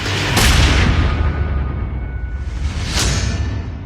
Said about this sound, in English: That's when she heard the gunshot.